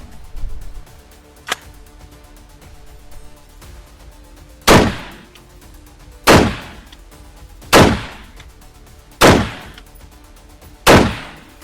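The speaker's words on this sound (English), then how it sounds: "just shot a couple of the 55, few of the 62" 5.56 rifle fired from a short-barreled gun with 55 and 62 grain ammunition: one faint crack early on, then five loud, sharp shots spaced roughly a second and a half apart, each with a brief ringing decay.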